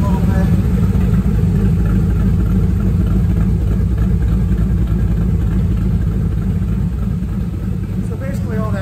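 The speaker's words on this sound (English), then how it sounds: "So basically all that does is it opens the exhaust up." A 2008 Saleen Mustang with a Brenspeed Stage 3 upgrade idles with its QTP exhaust cutouts open, a loud, deep, steady rumble close by that barely varies.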